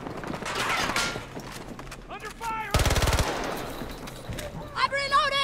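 AC9 rifle fire in Battlefield 2042, a tight rapid burst of close, loud shots amid game effects, mechanical clatter and other battle noise, with a voice speaking briefly.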